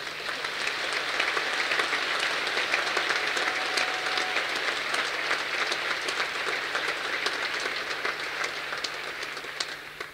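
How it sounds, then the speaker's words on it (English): A large graduation ceremony audience breaks into sustained applause, a steady, dense wash of many hands clapping at even loudness for about ten seconds before tapering slightly at the end. "Can we maybe give him a welcome, South African welcome, a nice applause, please?"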